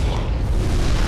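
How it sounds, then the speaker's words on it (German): Video game explosion in Mirror's Edge, set off near a burning gas line: a loud, dense, rumbling blast that fills the short stretch with sustained low boom and roar, no voices over it. "Schnell dort runter, sonst werden wir von der Explosion erwischt."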